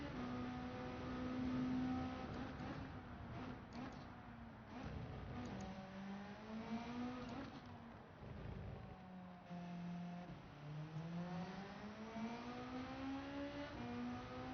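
Racing car engine in Gran Turismo 7 at Laguna Seca, with a Mustang and a Beetle mentioned, droning steadily and loud throughout, its pitch rising through gears and dropping on shifts, with no talk over it.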